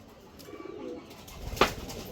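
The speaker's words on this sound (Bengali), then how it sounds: "অনেকগুলো কবুতর চলে আসছে।" Homing pigeons returning to their loft after a long-distance flight, giving a soft, brief coo close by against a quiet outdoor background.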